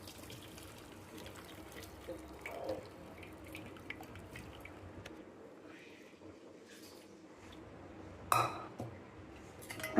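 Cooking water is poured off pressure-cooked jackfruit in a home kitchen: a quiet, trickling flow with soft clinks of a pot, and a brief louder splash near the end.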